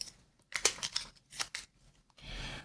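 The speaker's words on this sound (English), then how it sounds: "I did see the next card, so I'll keep that on top and I'll just shuffle these" A deck of game cards is shuffled by hand at a tabletop board game session, a few quick papery riffles and snaps in short bursts, fairly quiet and with no talk over it.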